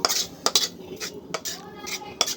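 Cooked pumpkin greens tipped from a pan into a bowl with a metal utensil, giving a run of sharp clinks and scrapes with soft wet slides between them, close and moderately loud.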